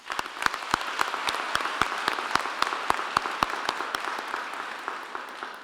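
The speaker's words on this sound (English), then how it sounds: "I'd like for us to give you another massive round of applause" Graduation ceremony crowd applauding graduates, many hands clapping with sharp close claps punctuating a softer wash of distant applause that tapers slightly near the end.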